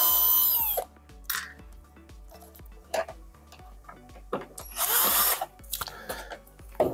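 A power screwdriver backs screws out of the side panel of a DeLonghi PrimaDonna DeLuxe S espresso machine. It gives several short whirring bursts separated by clicks and handling knocks, all close and moderately loud, with no talk.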